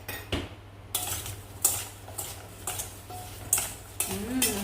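Apples tossed with brown sugar and cinnamon in a bowl, giving a series of close, irregular scraping and clinking stirs of a utensil against the bowl, with brief pauses between strokes.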